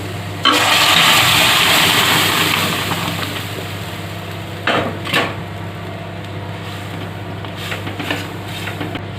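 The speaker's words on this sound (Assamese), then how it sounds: "এতিয়া অলপ কুকাৰটোত গৰম পানী দি দিছো" A loud rush of hot water pouring into a pressure cooker of cooked lentils for a few seconds, then fading into a low hum with a couple of brief clatters.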